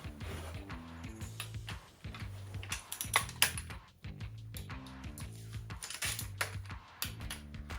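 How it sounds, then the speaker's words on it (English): A torque wrench clicks and ratchets while tightening the intake manifold bolts on a 1997 Chevy/GMC 350 5.7L V8, giving a rapid series of close, light ticks over a steady low tonal hum. "Now this has got a really light click at a light weight"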